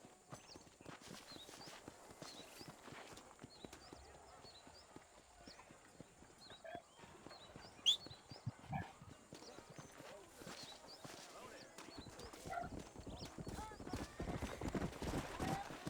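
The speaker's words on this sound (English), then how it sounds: "o cavalo vem a milhão, vem rasgando" A horse in the Red Dead Redemption video game gallops in steady rhythmic clip-clop hoofbeats with an occasional whinny, the pace picking up and the sound growing louder toward the end, while a person talks over it.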